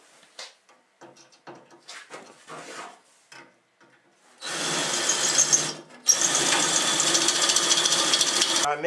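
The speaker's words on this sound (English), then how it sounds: "So I'm just going to quickly drill these rivets out and take this off" Power drill boring out rivets on a 1970s Polaris snowmobile clutch guard, loud continuous whirring in two long bursts after a stretch of scattered handling clatter, close by.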